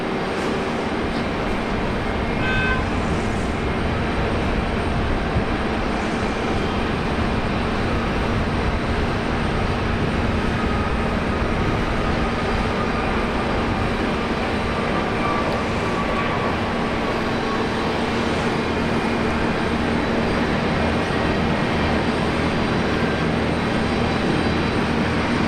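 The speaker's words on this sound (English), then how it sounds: "Now the classic A321 there of Jetstar." A Jetstar Airbus A321 departing Brisbane Airport on Australia Day gives off a loud, dense engine roar with a steady hum, continuous and close throughout, with no voices over it.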